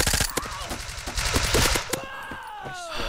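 Gunfire in a browser shooting video game: rapid bursts of automatic shots crackling for a couple of seconds, fairly loud, then fading with a faint voice over the tail.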